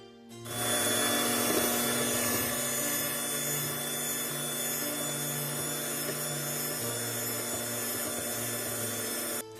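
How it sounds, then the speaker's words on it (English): Electric hand mixer set to medium, beating cake batter in a bowl with a steady, even whir that starts abruptly and runs unbroken for about nine seconds before cutting off. "I'm going to be using my hand mixer, and we're just going to put it on medium, and we're going to mix it for 2 minutes."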